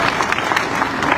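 Applause and crowd noise at a political rally welcoming Sandra Torres of the Unidad Nacional de la Esperanza party in Guatemala, a dense steady clapping wash that runs throughout without a break.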